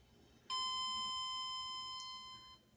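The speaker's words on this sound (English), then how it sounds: "Chime's messed up." A malfunctioning arrival chime on a 2003 KONE hydraulic elevator at a hotel gives one steady electronic tone lasting about two seconds, then fades out over a quiet hallway.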